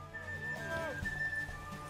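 Horse in The Witcher 3: Wild Hunt whinnying and clip-clopping close by, mixed under game music and a speaking voice throughout.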